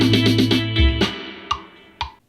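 A GarageBand beat built from pulsing synth chords with a deep bass hit, then two sharp, bright clap hits standing alone near the end of the short loop.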